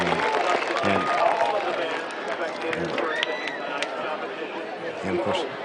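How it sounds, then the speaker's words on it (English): A crowd at a marching band invitational applauds and cheers in a dense, continuous wash of clapping and chatter that stays loud and close throughout. "They applaud everybody for their great efforts and their impact of what they're doing"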